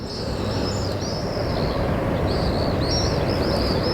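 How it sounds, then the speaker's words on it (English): Small birds chirp and sing near the Eternal Flame memorial in Irkutsk, Siberia, in spring, their thin repeated calls sitting high over a steady outdoor city hum and staying fairly soft throughout. "I hope you guys could probably hear the birds singing."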